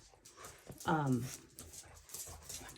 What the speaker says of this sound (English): my dogs are going crazy over here